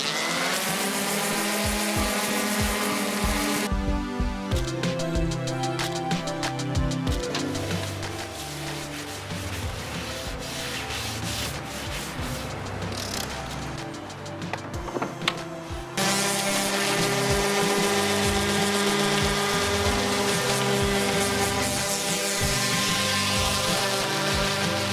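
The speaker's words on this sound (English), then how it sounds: "I'm just gonna give it a light sand" A kitchen table's finish, dotted with embedded glitter, is lightly sanded before a coat of polyurethane: a steady, loud motorized whir runs throughout, its tone shifting midway and returning stronger near the end, with no talk.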